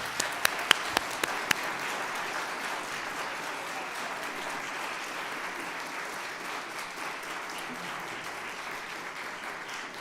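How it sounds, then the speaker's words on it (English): A church congregation at a Sunday worship service applauds the Bell Choir, with a few sharp close claps at the start swelling into steady, moderate clapping that continues evenly to the end. "I think we owe them a round of applause."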